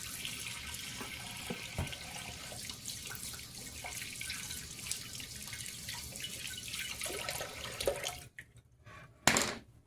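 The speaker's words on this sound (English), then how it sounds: "now what I'm going to do, wash my hands up a little bit" Hands are washed under running tap water at a sink, a soft steady splashing stream with small drips, ending with the flow stopping and a few final splashes.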